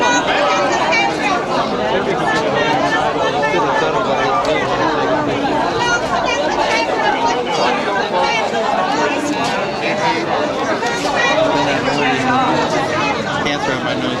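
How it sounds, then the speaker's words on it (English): A huge crowd of people at a busy site in China chatters all at once, a dense, steady babble of many voices that stays loud and close throughout. "See, it's a huge crowd."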